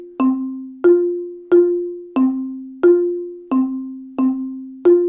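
Mallet keyboard drill of alternating single strokes and a diddle, eight evenly spaced ringing strikes on two alternating pitches, each sharp attack decaying into a sustained tone, played alone with no talk.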